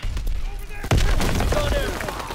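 A loud explosion booms amid gunfire in the online game Roblox, a sudden heavy blast followed by a dense, rumbling wash of game noise, with players talking over it.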